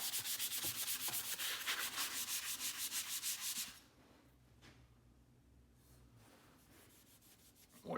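Hand sanding with 100 grit then 220 grit sandpaper on a toolbox handle made from a metal conduit elbow; a steady, loud rapid back-and-forth rasping for several seconds, then softer, quieter rubbing.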